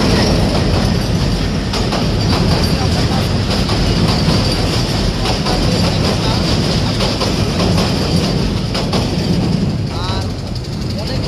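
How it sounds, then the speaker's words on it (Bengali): A train rolls across a bridge close by, a loud, continuous rumble with rhythmic wheel clatter and a brief metallic squeal toward the end, filling the whole stretch. "এই ব্রিজ দিয়ে কিন্তু একটা ট্রেন চলমান, এখন আমাদের সামনে দিয়ে চলে যাবে"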